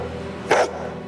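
A dog gives one short, loud bark indoors, standing out sharply against a quiet background hum.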